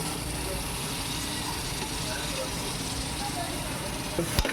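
Chopped coriander and green chillies stirred in hot ghee in a pot for seeraga samba chicken biryani, giving a steady close sizzle and hiss with one short clunk near the end and no talking.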